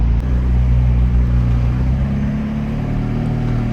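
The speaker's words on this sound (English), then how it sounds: "And get rolling here. It's a McLaren." McLaren 720S sports car rolling along the Pacific Coast Highway at sunset, a steady deep engine rumble heard from inside the cabin, loud and continuous throughout with no talk.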